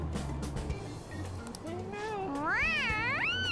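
A cat meows in several rising and falling wails that grow louder toward the end, near and clear over a low steady background hum.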